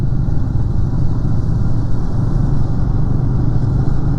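Motorcycles ridden by fellow bikers on the road to Bhutan rumble past with a loud, steady, close engine drone that holds throughout without pause.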